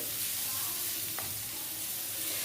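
Cabbage egg fried rice tossed and stirred in a pan on high flame, with a steady close sizzle and a brief scrape of the utensil partway through, no talking.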